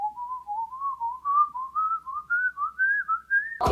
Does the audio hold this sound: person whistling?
yes